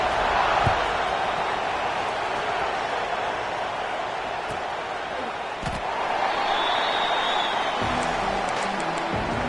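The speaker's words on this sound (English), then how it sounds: "this crowd is buzzing after that last score" Football stadium crowd buzzing after a scoring drive, a dense, steady roar of many voices that holds loud and constant throughout, with a few faint thumps and a brief tonal whistle over it.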